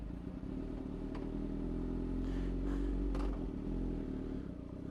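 ZX sport motorcycles warm up with a low, steady engine rumble and a few brief revs and clatters, heard at moderate distance and fairly faint.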